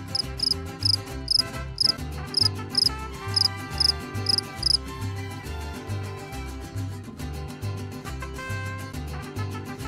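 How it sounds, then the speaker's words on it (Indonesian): A cricket chirps in rapid, evenly spaced high pulses, clear and close, over a steady musical background; the chirping stops about halfway through. "Ini adalah jangkrik."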